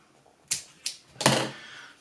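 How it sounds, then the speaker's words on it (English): String is snipped with sharp cutting clicks for a 3D-printed OTF blade: three close, crisp snips, the last a longer rasp that fades, on a quiet background. "I'm going to go ahead and cut the string"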